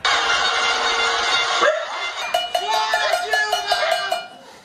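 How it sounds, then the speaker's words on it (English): Pots are banged in a pot-banging panelazo street protest, heard as a steady rhythmic series of loud metallic clangs over a dense background roar of crowd and street noise. "People were banging their pots, honking their horns."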